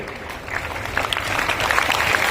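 A crowd at a rally in Shekhawati claps steadily to welcome a senior guest, a dense, continuous wash of applause that swells slightly and holds until it cuts off abruptly.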